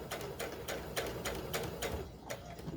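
A sewing machine stitching fabric for a 20-inch doll dress runs in quick, rapid clicking bursts with brief pauses, close and fairly quiet, with no talking over it.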